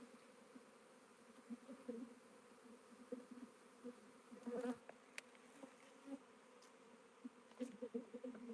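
Honey bees from a swarm hum steadily in a faint, continuous drone, with occasional louder buzzes as individual bees pass close by.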